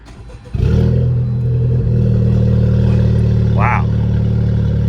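A Honda Civic Type R at a dealer auction starts up with an abrupt loud crank, then settles into a strong, steady close-up idle with slight revving, and a voice briefly speaks over it.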